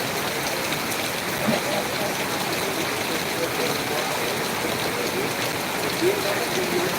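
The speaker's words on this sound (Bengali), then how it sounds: "তবে বৃষ্টি কিন্তু পড়ে যাচ্ছে" Steady, dense rain falling over the town of Natore during the Ashadh monsoon, a loud even hiss of drops on surfaces that continues without a break.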